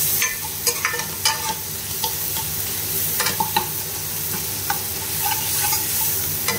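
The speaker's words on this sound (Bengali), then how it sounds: "এই মশলাগুলো ভালো করে কষতে হবে।" Ground spices, among them Kashmiri chilli, turmeric, cumin and coriander powder, fry and are stirred in a pan for a prawn malai curry, with a steady close sizzle broken by repeated scraping strokes of the spoon.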